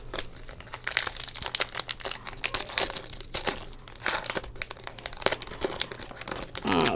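Foil wrapping of a Magic: The Gathering booster pack from a Dungeons & Dragons: Adventures in the Forgotten Realms gift bundle crinkles and tears close up, a run of sharp crackling rips and rustles with no talking.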